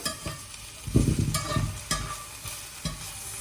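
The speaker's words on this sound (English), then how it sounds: "Just stir it through like that. I've still got it on the medium heat." Leafy greens being stirred in a pan over medium heat, with repeated scraping strokes of the utensil over a close, steady sizzle.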